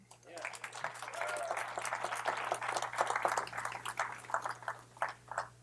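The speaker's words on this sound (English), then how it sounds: "We ought to clap for that." A church congregation applauds during a service announcement, steady clapping from many hands at moderate distance that swells and fades over several seconds, with a low steady hum underneath.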